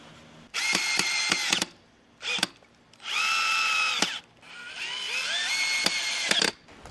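A power drill drives screws while camper bed parts are put together, in several loud whirring bursts of varying length separated by short pauses, with the motor's pitch rising and falling as each screw goes in.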